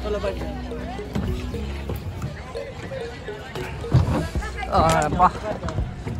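People talk aboard a small rowboat on the river at Triveni Sangam, Prayagraj, during the Maha Kumbh Mela, while water sloshes and knocks against the hull nearby, with occasional thumps and splashes.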